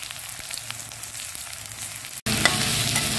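Crushed garlic and ginger dropped into a very hot wok for an Assamese local chicken curry: a quiet stir gives way to a sudden, loud, steady sizzle of frying.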